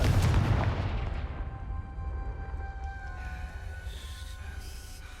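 A Confringo blasting spell goes off in Hogwarts Legacy: one loud, booming burst that rolls off into a long, fading rumble with a faint magical shimmer trailing behind.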